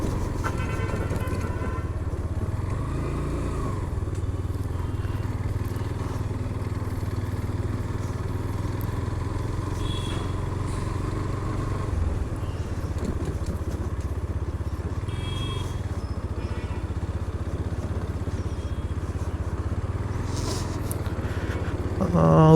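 A motorcycle rides on a late-night highway drive, its engine droning steadily and close with wind noise, rising and easing slightly in a few spots, no talk over it.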